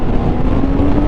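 A BMW K1600 GT six-cylinder motorcycle pulls hard in second gear, its engine note a loud, steady, humming drone with wind buffeting, heard up close for about a second.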